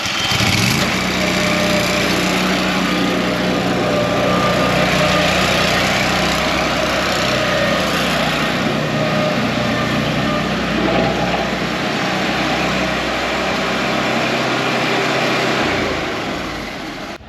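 A Walker riding lawn mower's engine runs steadily and fairly loud close by, a continuous drone with a low hum that holds for the whole stretch before easing slightly at the end.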